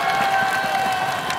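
Crowd cheering at a Thai Fight bout in Phuket, a dense wash of roaring voices and whistles held at a steady level for the whole short stretch.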